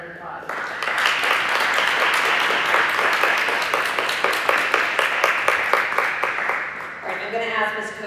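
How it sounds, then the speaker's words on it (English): An audience gives a round of applause at a high school preview night, loud sustained clapping from a room of people, with a voice breaking in near the end. "Give those guys a round of applause"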